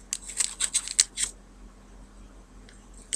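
Scissors snip open an orange Popin Cookin sushi kit sachet in a quick run of about eight crisp close cuts, then quiet with a faint final snip.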